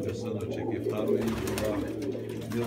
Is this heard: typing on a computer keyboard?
no